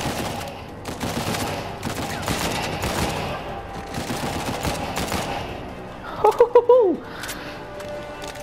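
Rapid gunfire from a firefight in Uncharted 4: A Thief's End, dense bursts of shots crackling through the whole stretch with a louder cluster near the end, a voice talking over the action.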